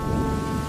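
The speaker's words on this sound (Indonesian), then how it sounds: "Gua dari tadi nunggu hujan, Dot." Heavy rain with a low, sustained rumble of thunder underneath, dense and continuous in a brief burst, with no voices.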